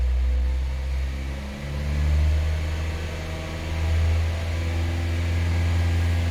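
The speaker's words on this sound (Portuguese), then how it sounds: "deixa o carro dar uma aquecidinha, dar uma pisadinha que vai apagar rapidinho" An automatic Honda Fit's engine idles while warming up, with two brief revs swelling and easing back into a steady low hum, heard up close with no one talking.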